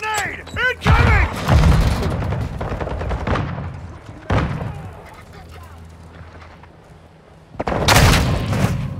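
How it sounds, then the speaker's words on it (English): In Call of Duty: Modern Warfare II, grenade explosions boom loudly amid gunfire and game voice callouts, with heavy blasts near the start and again near the end, separated by rumbling battle noise. "Throwing grenade! Throwing grenade! Incoming!"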